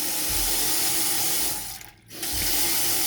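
Cold water running from a tap in a bungalow: a steady, close hiss and splash that stops briefly for a moment and then resumes at the same strength, with no voices.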